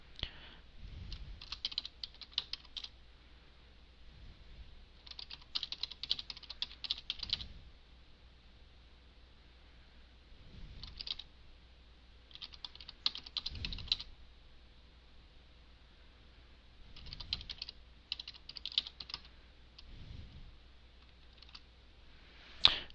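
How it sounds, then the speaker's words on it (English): Quiet typing on a computer keyboard, heard in several short bursts of rapid key clicks separated by pauses, close and soft with no voices. "we're going to just type some funny text over top of this."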